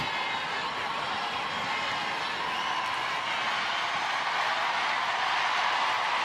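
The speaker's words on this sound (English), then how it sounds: "The crowd cheering as Gadines gets moving." Spectators cheer at a women's football match between C.F. Monterrey and Olympique Lyonnais, a steady, distant roar of crowd noise that swells slightly toward the end.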